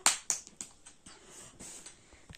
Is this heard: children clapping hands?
yes